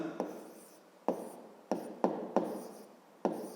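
Handwriting during a fifth-grade maths lesson, with several separate taps and short strokes of a pen or chalk on a surface, spaced irregularly in a quiet room.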